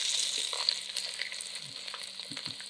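Whole pork belly searing in a pan, giving a soft, steady sizzle with occasional faint pops and shifts, close but quiet and without speech.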